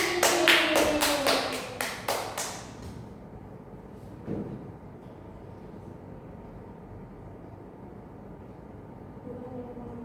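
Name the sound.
classroom clapping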